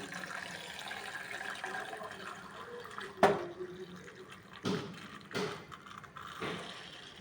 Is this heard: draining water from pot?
yes